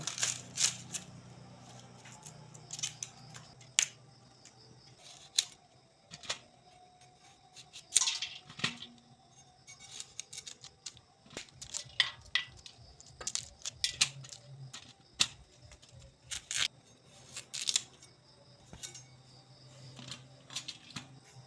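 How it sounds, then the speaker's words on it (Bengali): A knife cuts through cauliflower close up in a home kitchen, making a series of sharp, irregular crisp snaps and clicks spread over about twenty seconds against a quiet background with no talking. "এখন ফুলকপি কেটে নেব"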